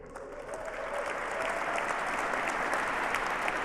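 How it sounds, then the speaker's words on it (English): A large audience applauds a presidential speech, dense sustained clapping that holds steady and even for several seconds, with no speech over it. "Pause for America claps."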